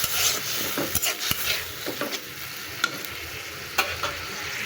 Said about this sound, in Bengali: এই তো দিয়ে এখন আমি ভালো করে কষিয়ে নেব।